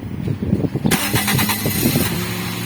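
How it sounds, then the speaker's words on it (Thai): A Toyota Vios engine, started by remote smart key, cranks and catches, then settles into a steady idle nearby, with no one pressing a pedal. "ถ้าเราจะเอารีโมทสตาร์ทเครื่องก็ใช้ปุ่มข้างล่างสุดกดค้างไว้"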